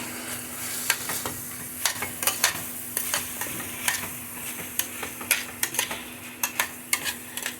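Sliced chorizo sausage frying in a pan with seared chicken, giving a steady sizzle under repeated scraping and stirring clinks from a utensil, close and alone without speech.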